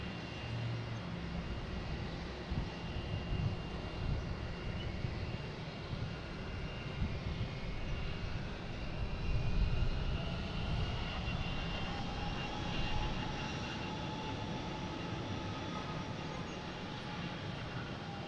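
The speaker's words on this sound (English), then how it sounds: "next taking off is flight 570 for United Airlines heading to Newark," A United Airlines Boeing 737 MAX 9 takes off from Boston Logan International Airport, its jet engines a broad distant roar that holds steady and swells slightly as the aircraft climbs away.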